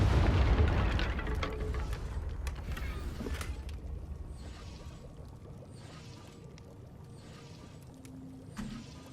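A Confringo spell explosion in Hogwarts Legacy, a loud booming burst at the start that rolls into a long decaying rumble and crackle, with a smaller pop near the end.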